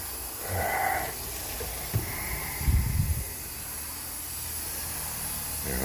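An air compressor runs with a steady hiss throughout, broken by a couple of brief louder bursts of rumbling noise near the middle; no one speaks.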